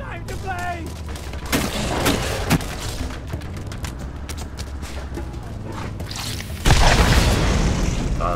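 Rapid gunfire and booming shots from a Borderlands firefight crackle almost continuously and loudly, with bursts and heavy impacts, including a big blast near the end, while a player speaks over it.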